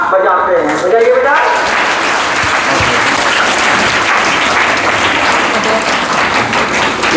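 Children applaud together at a school self-esteem programme, a loud, dense, steady clapping that carries on without a break.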